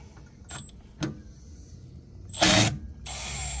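Short bursts of an impact driver working on a Honda CR-V during CV axle replacement: brief whirring spurts, then a louder rattling burst and a final sustained run, close by with no talk.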